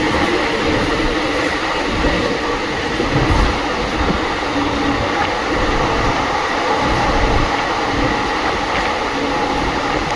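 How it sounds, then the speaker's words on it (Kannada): Mysore–Belagavi Vishwamanava Superfast Express running with older ICF coaches, a loud steady rumble and roar of wheels on track heard from inside the train, continuous throughout with faint rhythmic clatter and no talk. "ಮೈಸೂರು ಬೆಳಗಾವಿ ವಿಶ್ವಮಾನವ ಎಕ್ಸ್ಪ್ರೆಸ್ಸಿಗೆ ಎಂಟ್ರ್ ಆಗಿದೆ ಈಗ ದಾವಣಗೆರೆಗೆ"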